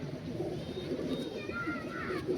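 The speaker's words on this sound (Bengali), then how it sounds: "এ হচ্ছে পায়রা।" Pigeons from a Malwai pair kept for sale coo softly in a low, throaty murmur that repeats close by, with background noise and a faint voice.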